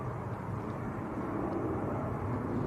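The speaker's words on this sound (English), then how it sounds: "Airbus A350, 900 series." An Airbus A350-900 airliner makes a steady, broad jet-engine roar throughout, even in level, with no talk.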